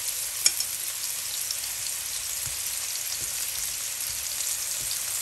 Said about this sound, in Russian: И обжариваю с другой стороны.